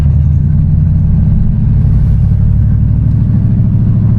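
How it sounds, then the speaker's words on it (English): A 1986 Monte Carlo SS exhaust rumbles deep, throaty, steady and loud, a low burbling idle that holds throughout with no voices. "Obviously that exhaust, you guys hear it"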